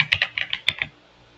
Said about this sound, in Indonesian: pastikan dalam mengetikkan jangan ada yang salah mulai dari spasi, strip, atau sampai tanda kurung